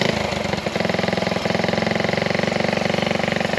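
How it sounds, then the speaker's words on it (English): A 1971 Honda Z50A motorcycle's small engine idles steadily up close, a fast, even putter with a faint pause near the start and then a constant rhythmic chug. "Let it keep running. It's idling."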